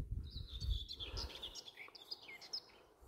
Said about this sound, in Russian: Как птички поют.